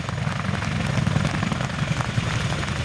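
An RAF Chinook helicopter at an airshow runs down the runway with its rotor disc tilted, a loud continuous twin-rotor thrum and engine roar heard from fairly close.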